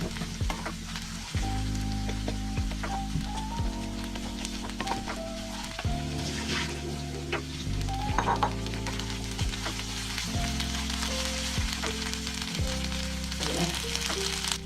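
Onions frying in a pan for vegetable pulao, stirred continuously: a dense, even sizzle runs throughout, with music playing underneath.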